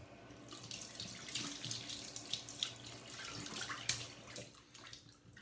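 Water runs from a tap and splashes as a shaving brush is rinsed beneath it, with uneven gushes and spatters at close range.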